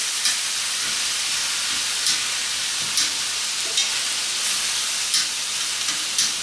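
Beef sears in a hot pan with a steady, fairly loud sizzle, broken by occasional stirring scrapes and pops, close up with no talking.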